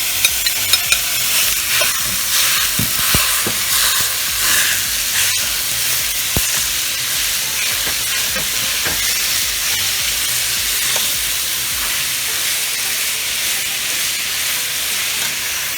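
Ground beef with chopped garlic frying in a pan, a loud steady sizzle with spoon scrapes and clicks as it is stirred, no voices.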